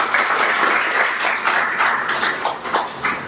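An audience at an AI orientation class applauds to welcome a speaker, with a steady patter of many hands clapping at moderate loudness in an indoor room.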